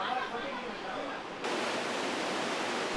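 River rapids on the Nile at Jinja in Uganda rush in a broad, steady roar of churning water, heard alone and fairly quietly, with the sound abruptly brightening partway through.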